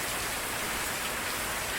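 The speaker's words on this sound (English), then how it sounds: "there's like gentle bells in the rain too" Steady, dense rain pouring down in a close, even hiss with no pauses; no bells stand out.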